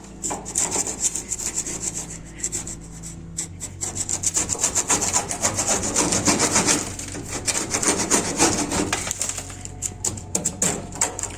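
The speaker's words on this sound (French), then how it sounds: "on va tester avec la spatule pour gratter tout ça" A metal spatula scrapes baked-on grime off the inside of a dirty oven, a continuous harsh rasping scrape with rhythmic strokes, close and fairly loud throughout.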